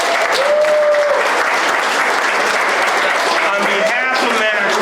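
Audience applause at a community pancake breakfast and award presentation, a dense, sustained clapping from a crowd that stays loud and steady throughout.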